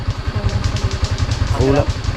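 A new motorcycle engine idles close by with a steady, rapid low putter, and a voice briefly speaks over it.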